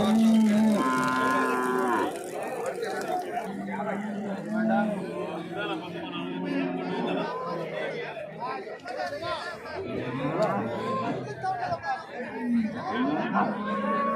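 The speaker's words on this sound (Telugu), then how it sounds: "చూడండి దూడలు అయితే ఉన్నాయి" Cattle and calves moo repeatedly at the Chintamani cattle market, some long and drawn out, over steady chatter from several people nearby.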